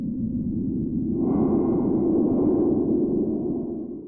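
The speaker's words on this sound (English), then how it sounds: "The Doppler was able to create gritty experimental soundscapes" A gritty experimental drone from a Doppler synthesizer, with a pink noise source modulating the carrier: a dense, rumbling low wash that brightens with a rising noisy upper layer, sustained steadily for several seconds before easing off.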